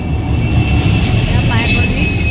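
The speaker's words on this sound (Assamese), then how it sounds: "আমি এতিয়া ফাইনেলি ট্ৰেইনখন পালেহি" A train pulls into a station on a journey from Tezpur, a loud, close rumble of wheels and carriages with a high whine and squeal over it, while someone talks.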